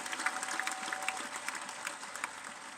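Applause from a church gathering with a Rwandan choir during a testimony, a quiet, steady wash of many hands clapping at some distance, with a faint sustained tone audible in the first second.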